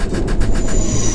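A loud subway train in a video game rumbles along with a rhythmic clatter and a thin, steady high whine above it, no voices.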